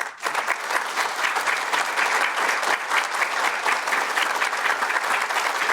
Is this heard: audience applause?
yes